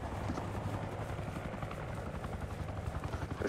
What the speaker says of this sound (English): I can't hear fuck all with that helicopter.